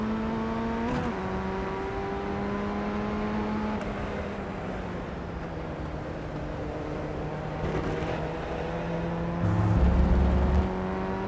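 A race car engine droning at high, steady pitch, dropping through a downshift and then climbing again, loud and close like an in-car view, with a brief heavier burst near the end.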